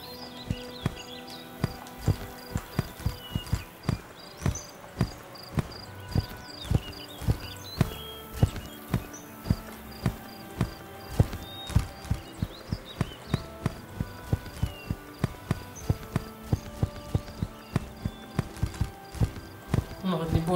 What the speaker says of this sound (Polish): było dźwięku przejeżdżania po kładce.